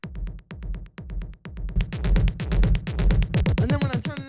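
Techno rumble kick with the distortion switched off, a steady run of clean, punchy kicks with short low tails, soon thickened by added layers and brighter hits toward the end, played alone without voices.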